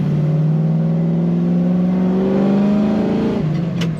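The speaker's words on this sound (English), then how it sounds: "And that was third gear in the corner, and we had plenty of torque." A 1968 Chevrolet Camaro coupe pulls hard in third gear through a corner, its engine note loud, close and steady, rising slowly in pitch as it accelerates with plenty of torque.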